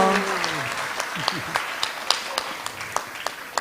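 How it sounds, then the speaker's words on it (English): Applause from an audience at a Sunday feast honoring the cooks, steady clapping across the room with a few sharper individual claps standing out, under an ongoing voice and crowd murmur. "So let's give them a big round of applause."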